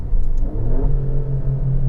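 A 2019 Alfa Romeo Stelvio Quadrifoglio engine drops through a downshift with a deep, steady rumble and a brief throttle blip, heard close and loud with no talk over it.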